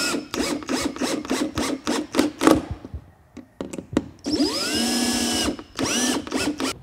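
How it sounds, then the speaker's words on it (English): A power drill set to low torque whirs in a string of short bursts, then runs longer as it drives into the wood of a steam-bent toboggan, close up with no talking. "I've got my chuck preset on the drill at a pretty low tension. I don't want to over torque this going in."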